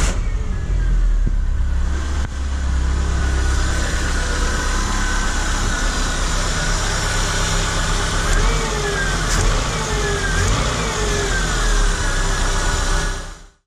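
A Peugeot 106 with a TU engine, freshly given an oil change, runs loudly and steadily at close range for the whole stretch, its idle holding even with faint mechanical ticks and a voice murmuring in the background.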